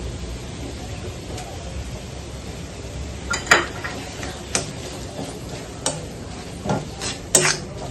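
Chopped spinach (palak) going into a pan for a garlic spinach and paneer curry is stirred with a utensil. Soft sizzling runs underneath scattered clinks and scrapes that cluster near the end, heard close at low volume.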